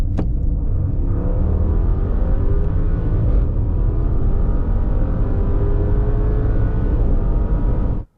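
A 2023 Bentley Bentayga V8 accelerating hard, its engine note rising steadily through a long pull, loud and close, then cutting off abruptly at the end.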